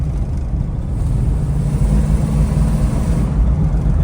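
A 1971 Dodge Super Bee under part throttle on a road test, a loud steady low engine rumble with wind rush, building gently and sustained throughout with no talking.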